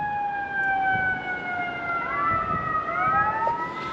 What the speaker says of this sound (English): here our fire department over there got their sirens on